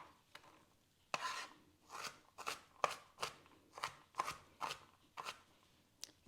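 A knife chopping a purple onion on a board for guacamole, about ten crisp separate cuts in an uneven rhythm, close and clear, with quiet pauses between strokes.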